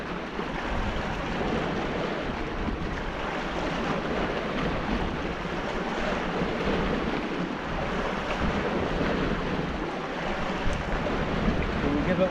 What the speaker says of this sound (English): It's quite a cold wind.